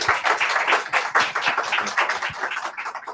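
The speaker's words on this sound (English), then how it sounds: "So you guys can give yourselves a round of applause." A small audience applauding themselves at a tech community talk, close, distinct claps in an uneven patter that tapers off near the end.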